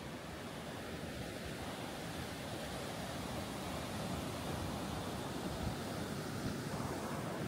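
Ocean surf at the Maspalomas dunes on Gran Canaria, a steady broad wash of breaking waves with wind buffeting the microphone, continuous and moderately loud with no voices.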